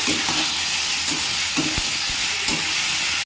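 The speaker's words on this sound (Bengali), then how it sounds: "এবারে দিয়ে দেবো মশলা, তার সঙ্গে আমও আছে।" Spices and raw green mango go into fish cooking in a watery pan, giving a loud, steady sizzling hiss with occasional stirring knocks and no voices.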